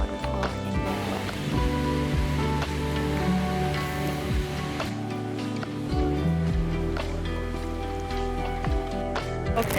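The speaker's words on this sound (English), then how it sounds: "SELJALANDSFOSS waterfalls, one of the most famous waterfalls in Iceland, with a 200 feet drop where you can walk behind the waterfall" Seljalandsfoss, a waterfall in Iceland with a 200-foot drop, roars from just behind the falling water as a loud, steady rushing wash like heavy rain, unbroken for the whole stretch, with no voices.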